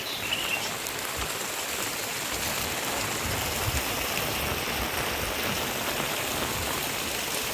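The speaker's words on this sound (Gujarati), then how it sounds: "ધોધમાર વરસાદ જોઈ લો" Steady, dense rain pours down in a continuous hiss and patter, with no voices, during a day of about 12 inches of rainfall.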